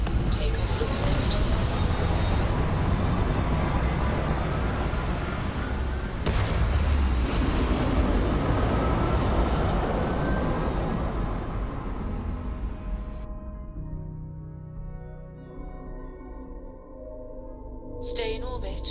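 Spaceship takeoff in the game Starfield: a broad, loud, steady roaring rumble lasting many seconds, with a sharp jolt midway, then fading into a quieter low hum near the end.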